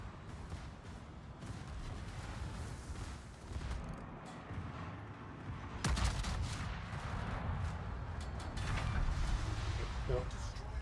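Dull booming naval gunfire and impacts from the World of Warships video game in a player-versus-environment battle, with repeated blasts over continuous rumbling game noise and one sharp report midway.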